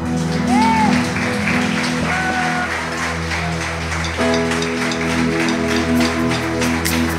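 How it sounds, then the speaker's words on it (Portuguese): Worshippers at a church cell-group service applaud in a continuous, busy patter of many hands, mixed with sustained music and tones that run beneath the clapping throughout. "Vamos aplaudir o Senhor?"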